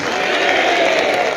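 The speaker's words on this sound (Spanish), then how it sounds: "Más fuerte ese aplauso para nuestro Señor Jesucristo." Congregation at a Catholic church gathering applauding together, a dense, steady wash of clapping that holds at an even level for a brief moment, with crowd murmur mixed in.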